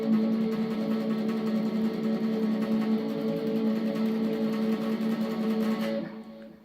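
Fast, even tremolo picking across three guitar strings, fretted at the 9th on A, 7th on D and 6th on G, sustained as a dense shimmering chord that cuts off near the end.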